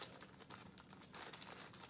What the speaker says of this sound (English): I'm going to place this toy in a plastic bag.